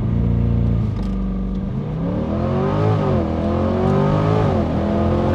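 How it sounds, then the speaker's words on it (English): A Chevrolet C8 Corvette accelerates hard from 0 to 60, its engine note climbing loud and close through rising revs with audible pitch drops at each gear shift. "testing out 0 to 60 with the new C8 Corvette"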